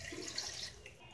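Water poured into rice in a rice cooker while making prawn biryani, a short splashing, trickling pour heard up close and on its own.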